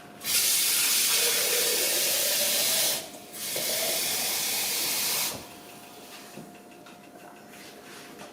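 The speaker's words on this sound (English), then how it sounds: "And we're going to add about a half quart of water." About half a quart of water pours into a pot of chicken broth, a loud close hissing stream that runs about three seconds, breaks briefly, resumes for two more, then stops, leaving quiet kitchen sounds.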